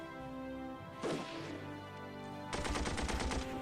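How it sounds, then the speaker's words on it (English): Machine gun fire in the tank combat game Armored Brigade: a short burst, then a longer rapid run of evenly spaced shots, fairly close and sharp against a steady game background hum, with no voices. "our machine gun started firing"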